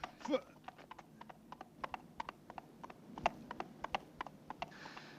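A horse belonging to a rag and bone man clip-clops along a street in a steady, even rhythm of sharp hoof strikes, moderately near, over low background hum.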